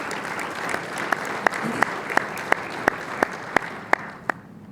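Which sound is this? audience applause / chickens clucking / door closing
audience applause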